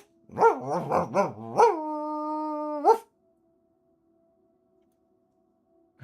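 A streamer voices an imitation of a dog, giving several quick yapping barks followed by a long drawn-out howl, then silence.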